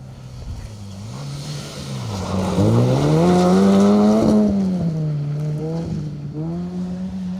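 A Nissan Micra rally car on a forest stage at the Greystoke Stages approaches and passes close by. Its engine whines loudly and rises in pitch under hard revving, then falls away as it drives off.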